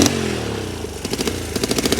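Honda CL175 motorcycle engine cranking and catching: a descending whirr gives way to sputtering, uneven firing pulses that quicken into a steady close putter, loud and alone.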